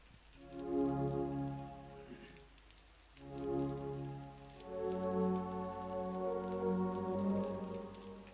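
A rain shower captured during a storm makes a gentle wash of falling drops beneath louder sustained musical tones that swell and pause in phrases.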